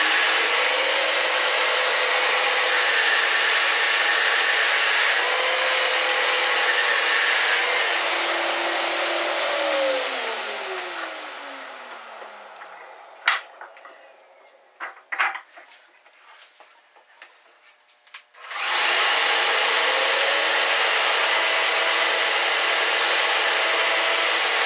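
Light sanding of a wooden drawer side for dovetail joinery: a loud, steady whirring rasp that fades and stops partway, with a few sharp taps and clicks, then starts again at full strength.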